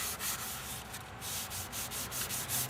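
A plastic car headlight lens being scoured and sanded to strip the outer coat, close rhythmic rubbing strokes repeating about every quarter second in an even back-and-forth scrape, with no speech.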